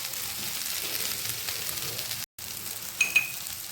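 Soybeans being stirred in a frying pan give a steady close sizzle, which drops out briefly. A couple of sharp utensil scrapes follow near the end. No one talks.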